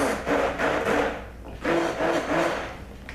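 A stick blender whirs over lumps of hard oils and shea butter for cold process soap, two buzzing bursts separated by a brief dip, close and fairly loud, with no talking.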